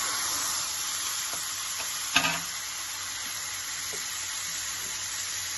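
Tomatoes hit hot oil in a pan for coconut tomato chutney, giving a steady, close sizzle with one sharp louder burst of spattering partway through and no talking.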